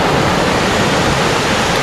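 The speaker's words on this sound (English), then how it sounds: "I think this is Mineral Creek Falls." A continuous, loud roar of rushing water from Mineral Creek Falls on the Hoh River Trail, dense and unbroken throughout, like standing close to a waterfall.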